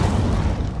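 A fiery Incendio spell cast in the video game Hogwarts Legacy, a dense, booming burst of flame that roars loudly and steadily through a short moment, heavy and low.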